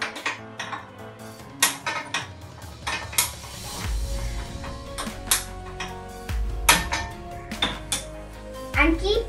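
Metal cookware clanks and settles on a stovetop with a few sharp knocks, close by, amid scattered kitchen clatter.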